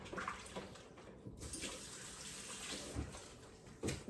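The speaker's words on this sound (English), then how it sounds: "Let me wash my hands," Tap water runs steadily in a kitchen sink while hands are washed under it, a continuous close splashing hiss with a few brief louder splashes and no talking.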